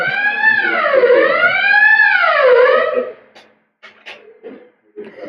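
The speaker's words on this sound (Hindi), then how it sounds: "ये वैसे फायर अलार्म भी सही चीज है, बीच बीच में टाइम पास करवा देती है।" A fire alarm siren wails loudly and up close in rising and falling sweeps for about three seconds, then cuts off, leaving scattered brief noises and faint voices.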